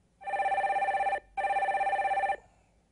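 A telephone rings with an incoming call: two loud, trilling bursts of about a second each, separated by a short pause, with nothing else around them.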